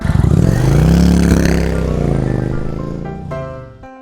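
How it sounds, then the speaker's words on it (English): A motorcycle engine revs up and holds a loud, throaty drone close by, then cuts off abruptly with a short clatter. "This is a motorcycle. This is the motorcycle sound."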